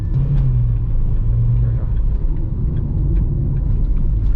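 A Chery Tiggo 2 Pro crossover with a CVT, its engine droning as a loud, steady low rumble from inside the cabin, holding above 2000 RPM throughout.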